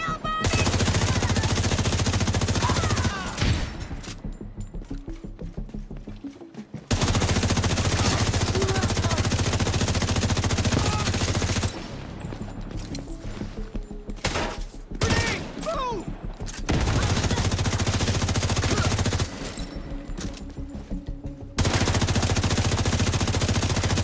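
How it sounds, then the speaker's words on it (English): Sustained bursts of automatic gunfire from the video game The Division in a Brooklyn battle, loud rapid fusillades broken by short quieter gaps, with no talk over them. "You can stay in there and I'll still shoot you."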